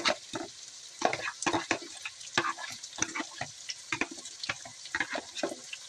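Chopped onions and green chilies tossed into a hot pan, sizzling and frying in bursts as they are stirred, with scraping strokes in an irregular rhythm close by.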